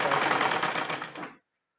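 A sewing machine stitching fabric runs in a fast, steady whirring rattle, close and loud, then stops abruptly, leaving silence.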